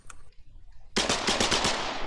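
SMG fire in the video game Foxhole, a rapid burst of about seven close, loud shots that follows a quiet lead-in.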